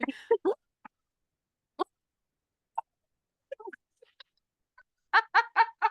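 A human voice mimics a turkey gobble: scattered short yelps and clucks, then a fast run of rapid gobbling bursts at the end, close and fairly loud.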